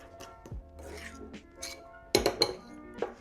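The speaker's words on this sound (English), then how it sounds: "I'm going to crush those little egg yolks" Egg yolks crushed in a bowl for a deep-fried holiday filling give a few close clinks and scrapes of utensil against bowl, with a louder cluster of taps near the end.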